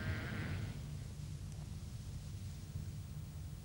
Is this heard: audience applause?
no